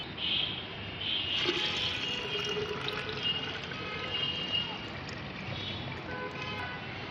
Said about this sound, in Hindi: तो जितना भाग फर्टिलाइज़र का है उसका 5 गुना मैं इसमें पानी मिलाऊँगी।